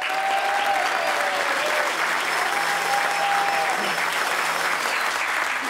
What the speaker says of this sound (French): je vais vraiment vous demander d'applaudir chaleureusement ta première femme